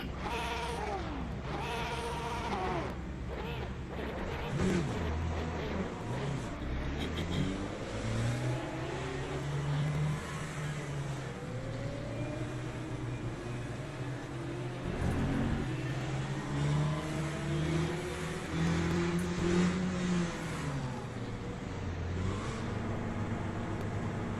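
GTE race car engines drone and rev together on a formation lap in the video game Le Mans Ultimate at Qatar, a steady, close engine roar with rising and falling pitch sweeps throughout.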